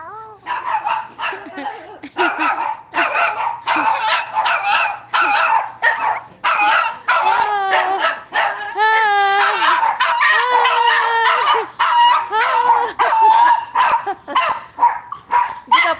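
A dog barks repeatedly in quick, loud bursts close by, with yips and whimpers in between, while people talk and laugh around it.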